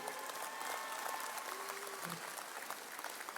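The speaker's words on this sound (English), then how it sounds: "give her a round of applause" Steady applause from a crowd at a university convocation ceremony, dense clapping throughout with no pauses, moderately loud and filling the room.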